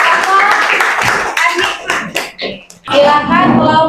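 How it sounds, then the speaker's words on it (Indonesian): A classroom audience claps together in a short burst of hand claps that stands apart from the talk surrounding it, with voices speaking before and after. "Beri tepuk tangan bersama."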